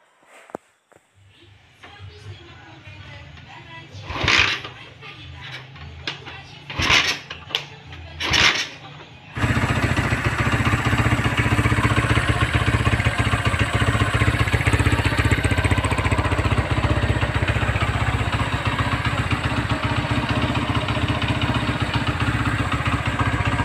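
Honda GL Max motorcycle with a bored-up engine: a few sharp starting attempts, then the engine catches and settles into a loud, steady, rattly idle close by, without revving, lasting over ten seconds.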